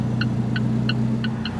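A 2015 Alfa Romeo 4C Launch Edition sits idling with a steady low engine hum while its hazard lights tick in an even rhythm of five clicks.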